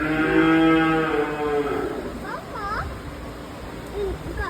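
A buffalo lets out a loud, drawn-out low moo close by at the start, followed by shorter bellowing calls, with people talking over the sound.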